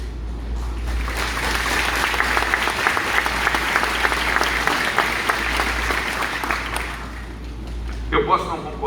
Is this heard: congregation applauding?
yes